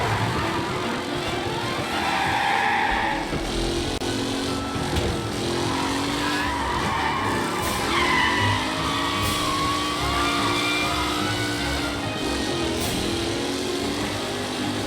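Race cars speeding along in Mafia: The Definitive Edition, a steady roar of several vintage engines revving and shifting pitch as they pass and accelerate, continuous and fairly loud throughout.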